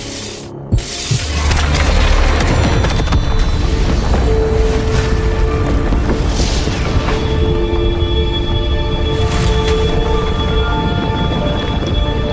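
An explosion goes off in a cutscene of the video game Wuthering Waves. A sharp blast hits early, then a loud, sustained roar of rumbling debris and noise carries on to the end.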